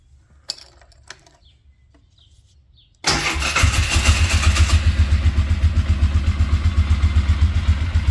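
An old 24-year-old quad ATV engine started without choke: a few light clicks, then the motor abruptly catches and runs at a loud, steady, pulsing idle close by.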